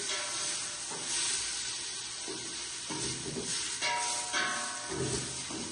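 Garlic and onion fry in a steel pot on a home stove in Canada, giving a steady close sizzle and hiss with occasional stirring scrapes.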